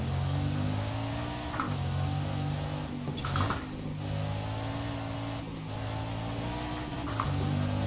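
A Bugatti Divo's engine revs hard in Forza Horizon 4, a loud, continuous mid-pitched roar that rises and falls with brief shift breaks, no voices over it.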